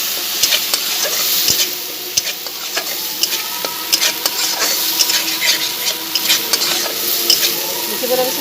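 Gravy stirred and fried in a pan, a steady close sizzle with frequent scraping and clinking stirring strokes throughout, no talking.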